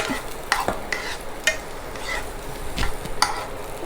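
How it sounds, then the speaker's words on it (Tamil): Onions sizzle in hot coconut oil in a pan for tempering, with a spoon clinking and stirring at intervals. "வெங்காயம், கொஞ்சூண்டு போதும் தாளிக்கிறதுக்கு மட்டும்தானே."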